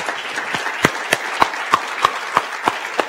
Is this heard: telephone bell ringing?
no